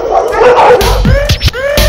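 Several dogs yip and bark in quick bursts, with whimpering yelps between them, heard close and fairly loud in a dog section.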